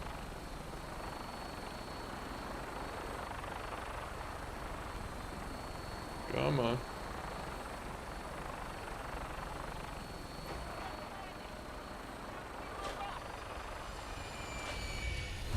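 A helicopter in Fallout 4 drones on continuously with a steady, broad rotor and engine roar, while someone briefly speaks over it.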